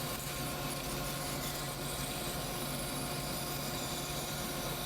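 A bandsaw cuts a teak knife handle for a paring knife, giving a steady, close, dense rasping whir that holds even and unbroken throughout, with no talking.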